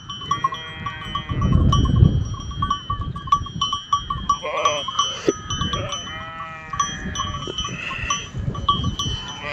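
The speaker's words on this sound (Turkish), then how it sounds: "Koyun da kuzu da maşallah hepsi bir olmuş." Sheep and lambs bleat together in a flock at a village farm, repeated overlapping calls near and far over a steady shuffling, with a faint bell clinking now and then.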